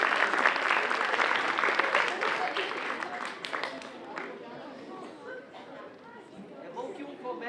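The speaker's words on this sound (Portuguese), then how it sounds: "Palmas para ele." Applause from a theatre audience at a clown show, a steady wash of clapping with crowd chatter mixed in, strongest at first and then thinning a little.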